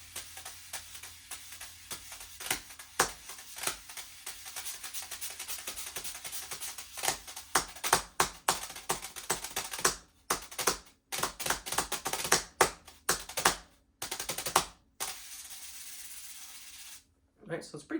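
Brushes played on the brush surface of a practice pad, a quiet run of soft swishes and light taps in irregular clusters, with brief pauses toward the end.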